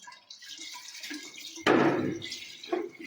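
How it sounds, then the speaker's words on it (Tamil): Coconut milk poured into churned buttermilk and mixed, a close wet splash and trickle that swells sharply midway, then settles into softer sloshing with a final slurp. "இப்போ நம்ம வந்து தேங்காய் பாலை வந்து நம்ம கடைஞ்சி வச்சிருந்த மோரோடு கூட ஊற்றி கலக்க போகிறோம்."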